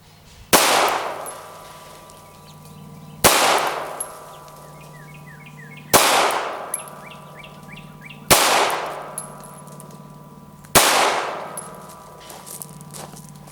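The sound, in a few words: handgun gunshots at target practice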